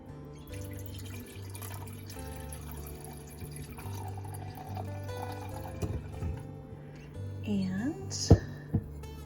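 Cabernet wine is poured into a glass, a short gurgling splash whose pitch rises as the glass fills, coming after talk and followed by a couple of clinks.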